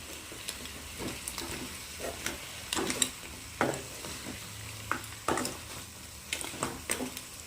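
Crab cooking in a pan with lemon gets stirred, irregular spoon scrapes and clacks spaced through the clip over a faint sizzle, close and with no speech.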